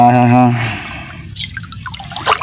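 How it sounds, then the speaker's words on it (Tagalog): Clean river water flows along, heard as soft trickling and splashing that picks up after a person speaks at the start. "Ito po yung ilog guys, oh. Napakaganda po ng ilog dito."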